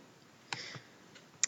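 Computer mouse clicks in a quiet room, a sharp click, a softer one just after, then a faint tick and a crisp final click, near and isolated against low background hiss.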